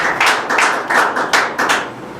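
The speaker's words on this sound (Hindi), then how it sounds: "एक बार तालियों में कमी रही है, जोर से तालियां बजा सकते हैं आप।" Audience at a Hindi poetry recitation gathering clapping in loud, uneven bursts that swell and fade several times across the clip, close and fairly dense, with no talking over it.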